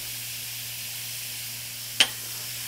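Cumin hits hot oil for shakshuka, producing a steady, soft, close sizzling hiss, with one sharp tick partway through.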